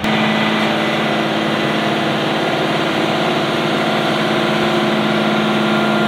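A big dump truck's engine idles loudly and steadily while it dumps a load of dirt, a continuous heavy hum with no pauses and no voices.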